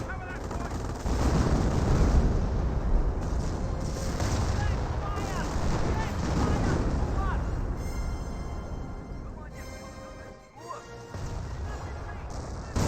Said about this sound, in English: Oh, that was a massive detonation there.